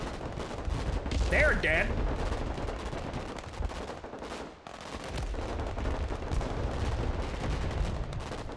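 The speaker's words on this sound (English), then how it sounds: "we're being shot at by the artillery, looks like." Artillery and gunfire in the Broken Arrow war game: dense rumbling impacts and rapid shots rolling on continuously, a brief lull midway, with someone speaking briefly over the barrage.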